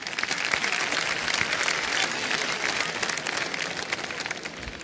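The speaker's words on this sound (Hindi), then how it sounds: "तालियां बज जानी चाहिए इसके लिए" A television quiz show studio audience breaks into loud, dense applause, many hands clapping in a continuous roar that holds steady at full strength with no speech over it.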